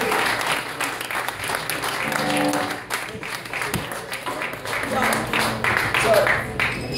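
Concert audience applauding at a show, a steady wash of clapping that swells and dips, with voices and cheers mixed in.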